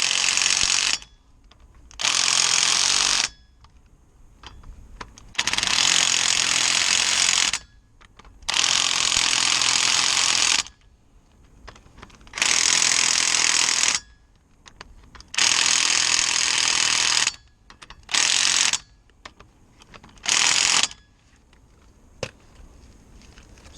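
Power tool tightening brake caliper bolts on a Mitsubishi Triton, a series of about eight loud bursts of mechanical ratcheting whir separated by short pauses, close by, with no talk.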